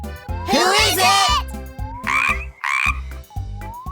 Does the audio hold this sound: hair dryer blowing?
no